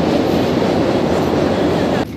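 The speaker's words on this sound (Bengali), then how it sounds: "ট্রেন যাচ্ছে।" A train crosses a bridge overhead at the Kumbh Mela in Prayagraj, sector 19: a loud, continuous roaring rumble with wind-like hiss that drops off abruptly near the end.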